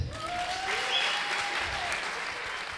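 Audience applause at a live comedy show, a steady burst of clapping from a crowd, moderately loud and sustained throughout with no talk over it.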